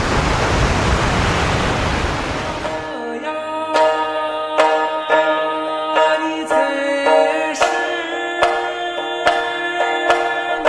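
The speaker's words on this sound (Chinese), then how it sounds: "大海的声音，你听啊，你听着了吗？" Steady, dense rush of sea waves fills the first three seconds at moderate loudness, then gives way to sustained musical tones with sharp plucked or struck accents.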